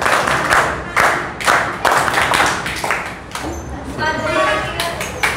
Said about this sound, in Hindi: सरोज कुमार को हम लोग 3 JP ताली से स्वागत करेंगे।